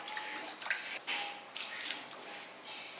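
Water is poured in several short splashing bursts into a vessel of thick kachayam batter, quiet and close, with brief gaps between pours.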